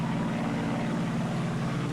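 A Liberator long-range bomber drones steadily overhead above the mid-Atlantic in the submarine game Silent Hunter 3, its propeller engines giving a continuous, moderately loud hum with no talk.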